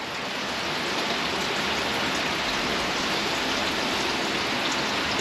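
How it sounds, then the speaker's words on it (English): Heavy water flowing steadily inside a coal mine tunnel on New Zealand's West Coast, a dense unbroken rushing roar that stays loud and constant throughout with no voices. "Wow, there's a big flow of water up here. I can hear it."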